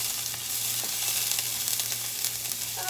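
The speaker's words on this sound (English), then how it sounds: "to the pan, I've gone ahead and added a little bit of the onion" Onion fries in a hot pan with a loud, continuous sizzle and crackle that holds steady throughout, unaccompanied by speech.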